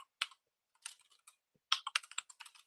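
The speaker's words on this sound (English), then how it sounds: "in the quotes, I can start typing my query" Someone types a query on a computer keyboard in irregular bursts of crisp, close key clicks with short pauses between, no voices.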